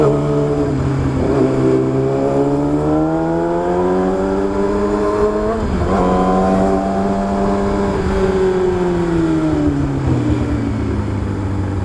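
A loud Yamaha R6 motorcycle exhaust revs repeatedly in busy traffic, its pitch climbing and dropping in several surges, with a deep, throaty drone between.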